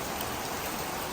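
Heavy rain pours down in Makkah as a steady, dense wash of hiss with no break or change in strength, and no voices can be heard.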